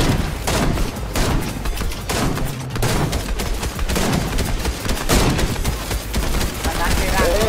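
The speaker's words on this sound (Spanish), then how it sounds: "Están tirando por el otro lado." Heavy gunfire with shots fired from the other side, crackling in dense, overlapping bursts that run without a break, loud and steady, while voices speak underneath.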